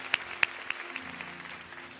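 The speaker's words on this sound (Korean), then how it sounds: "우리 다시 한번 주님 앞에 감사와 찬양과 영광의 박수 올려드리겠습니다." A church congregation gives thanks and praise with applause during a sermon, sparse at first with a few sharp separate claps, then thinning into a light scattering of claps.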